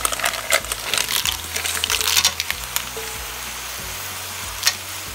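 Squid rings, shrimp and mussels for a Korean jjamppong seafood noodle dish hit a hot pan, crackling and sizzling loudly up close while a utensil stirs and clatters against the metal.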